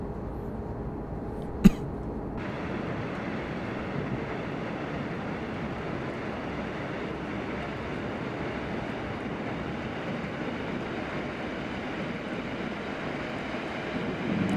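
A locomotive in Train Simulator 2018 hauls an express train toward Karlsruhe, its engine rising into a steady, powerful rumbling roar that stays loud and continuous after a brief click near the start.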